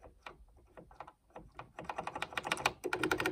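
A Zentec 9003 terminal's steel keyboard with Key Tronic magnetic reed switches is typed on up close, quiet irregular key clacks at first that speed up into a dense, quicker run of keystrokes.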